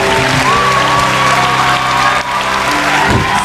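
Steady, loud crowd applause at an Akademi Fantasia elimination concert, a continuous wash of clapping with music tones running beneath.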